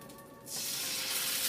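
Water poured into a hot pan of pork buns bursts into a loud, steady hiss of steam after a brief quiet moment, continuing up close without any talk.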